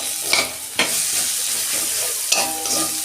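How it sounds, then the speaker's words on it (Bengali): Sliced onions and tomato sizzle steadily in a hot pan with oil, a continuous close frying hiss broken by a few sharper stirring scrapes, with no talking. "আর অল্প 2 মিনিট ভেজে নেব।"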